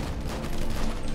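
Gunfire in GTA 5 as shots strike the player, a dense, steady burst of loud crackling shots with no gaps across a very short moment.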